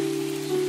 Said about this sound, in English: Raindrops hit her quills